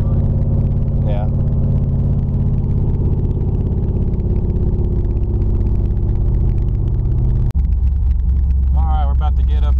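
A car with no mufflers drones loud and close from inside the cabin, a deep raw rumbling exhaust held steady while cruising, with a brief sharp knock and people talking over it.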